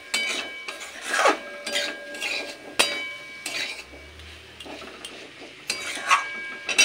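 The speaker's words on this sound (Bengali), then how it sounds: "এই সময়ে ভেজে রাখা ডাঁটা আর আলুটা দিয়েও আরও কিছুক্ষণ 1 মিনিট মতন একটু নেড়ে নেব ভালো করে।" A metal spoon scrapes and stirs fried drumsticks and potatoes through tomato masala in a pan, with intermittent rasping strokes and a few sharp clinks against the metal, fairly quiet and without talk.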